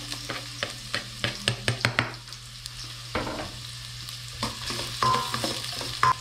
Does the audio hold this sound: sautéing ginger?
yes